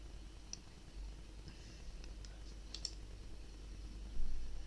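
Mouse clicks while a button is positioned on a Wix web page, a few sparse, faint, sharp clicks against a quiet low hum, with no talking.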